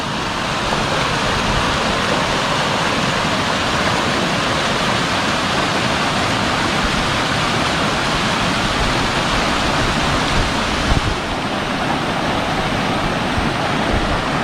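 Water gushing from a hose at Calawagan Mountain Resort, a dense continuous rushing hiss like a small waterfall, loud and close, holding steady throughout.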